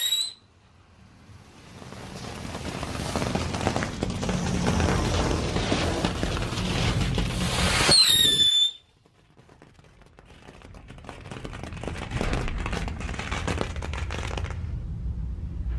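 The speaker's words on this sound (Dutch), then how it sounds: "Nu zetten we de raceauto en de tank aan." Race car and tank novelty fireworks set off outdoors, two long bursts of fizzing, crackling and hissing, the first ending in a sharp whistle before a short lull and the second starting up.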